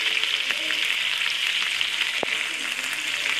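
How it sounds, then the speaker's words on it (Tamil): Fish frying in a pan, a traditional village-style fish fry, giving a steady broadband sizzle throughout with a few faint crackles and one brief low thump, no talk. "திருப்பி விட்ட மீனை 5-8 நிமிஷம் ஃப்ரை பண்ணிக்கோங்க."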